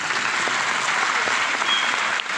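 Seminar audience clapping again in a hall, a full, even wash of applause sustained for a couple of seconds with no talking.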